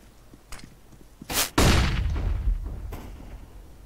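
Counter-Strike gunfire: a few light shots build to one heavy, booming blast whose rumbling echo decays over a couple of seconds, followed by another faint shot, loud and close.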